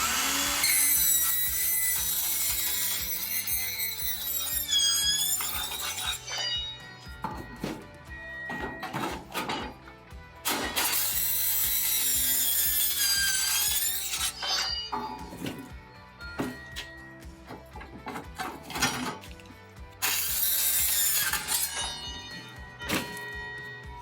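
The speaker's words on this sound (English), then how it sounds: "now I'm going to use the Hilti metal cutting saw" A Hilti metal cutting saw whines through an Armstrong METALWORKS linear metal ceiling panel in three loud bursts, with gaps and light clinks between cuts.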